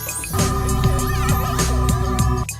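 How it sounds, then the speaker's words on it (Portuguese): Sonified magnetic interference from planet Mercury: an eerie, steady electronic drone with warbling, gliding tones and faint regular clicks, loud and continuous, starting and stopping abruptly with no voices. "E agora a interferência magnética de Mercúrio."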